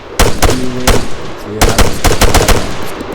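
Rapid gunfire from a scoped rifle in the military shooter Arma 3, loud close bursts of shots with a short pause mid-way before a second, faster volley.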